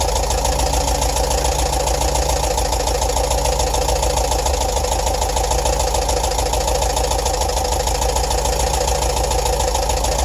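A Volkswagen bus engine idles steadily while its idle mixture is adjusted, giving a loud, continuous rumble with an even low throb that holds unchanged throughout, with no voices.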